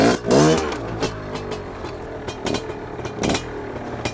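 Fantic 200 two-stroke twin-shock trials motorcycle engine revving and blipping close by, a rising rev at the start followed by several short throttle bursts over a steady ticking idle, with no talk.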